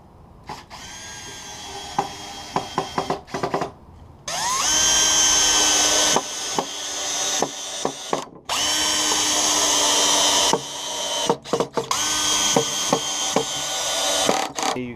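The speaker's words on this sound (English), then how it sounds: "all we're going to do is just anchor it down with these 4 screws" A power drill drives four screws to anchor a wing onto a main body, whirring in several sustained runs with short stop-start bursts and clicks between, loud and close.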